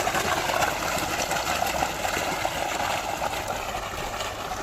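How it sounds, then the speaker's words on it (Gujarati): A 5 hp water pump motor pushes out a strong gush of water, a loud, steady, close rushing roar that holds without a break from start to end. "5ની મોટર છે કેટલો પાણી ફેંકે છે"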